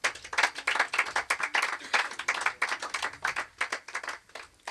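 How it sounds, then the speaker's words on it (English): Outdoor crowd of residents clapping hands in thanks at a community gathering, a dense burst of applause close by, steady for several seconds then thinning toward the end. "Give him a hand of applause."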